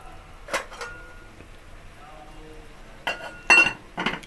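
Metal cookware clinks as a lid goes back onto a cooking pot of simmering bananas. A few quiet taps come early, then a cluster of louder clattering contacts near the end.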